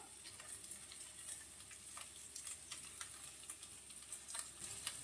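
Cauliflower (gobi) frying in a pan with salt makes a soft, steady sizzle with scattered light crackles and ticks, faint and unbroken throughout.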